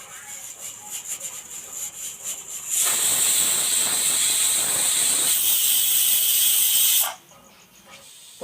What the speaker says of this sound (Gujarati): મિત્રો બે સીટી થઈ ગઈ છે અને આપણે વરાળ કાઢી નાખીએ